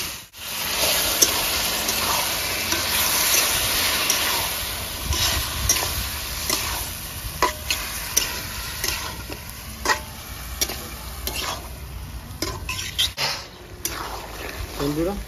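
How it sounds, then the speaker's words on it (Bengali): Marinated chicken frying with onions in a pot, a continuous loud sizzle with intermittent stirring scrapes and clatter near at hand, while a voice talks over it. "বন্ধুরা, ম্যারিনেট করা চিকেনটা এবার দিয়ে দেবো"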